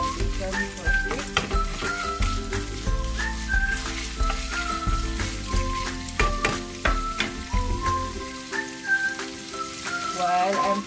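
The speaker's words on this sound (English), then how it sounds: "First thing, we're gonna fry our bacon for quick." Turkey bacon sizzling and crackling steadily in a hot pan, close up, with music playing over it throughout.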